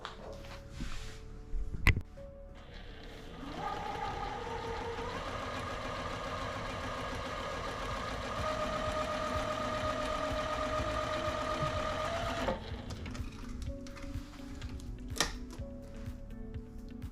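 A sewing machine stitches a quilt block made from precut fabric, running steadily for about nine seconds at a constant mid-level whir with a brief start and stop at each end.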